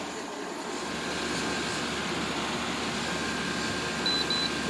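A six-year-old GE 6500 BTU window air conditioner with a plastic scroll cage blower runs on high, giving a steady, even whoosh of moving air with a faint hum and a brief high beep near the end.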